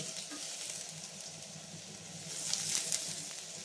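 Ginger and garlic frying in a couple of spoons of oil, a quiet continuous sizzle that swells briefly toward the end, heard alone without speech.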